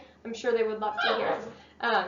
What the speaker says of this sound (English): You can hear a little puppy in the